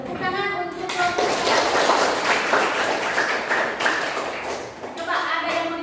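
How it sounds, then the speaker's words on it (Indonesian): Classroom applause from students for a presenting student group during a lesson, a burst of many hands clapping that swells after a brief spoken moment and runs steadily before fading, with voices around its edges. "Tepuk tangan untuk kelompok."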